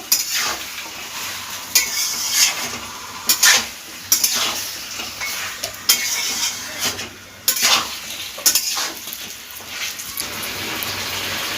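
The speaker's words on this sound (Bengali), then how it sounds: "এবার আদা আদা আর রসুনের পেস্টটা দিয়ে দিলাম দিয়ে ভালোভাবে কষিয়ে নেব" Ginger-garlic paste frying in a pan with chicken, a steady sizzle broken by repeated scraping and clanking strokes of a spoon stirring against the metal pan, close and fairly loud.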